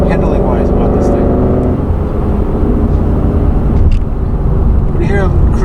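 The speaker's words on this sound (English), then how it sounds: "When you hear a crisp downshift stuff, yeah, oh, she sounds good." Ford Performance car with handling pack, driven on the street, its engine revving loud and close throughout, with a crisp downshift blip near the middle; someone talks over the engine.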